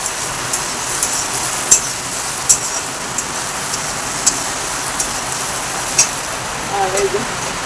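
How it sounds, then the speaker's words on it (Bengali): Rain drops fall on a tin roof, making a constant loud hiss with scattered sharper metallic taps at irregular intervals, heard up close. "এই যে টিনের চালে তো বৃষ্টি ফোঁটা পড়লে পরে কীরকম আওয়াজ হয় এগুলো বুঝতেই পারতেছে"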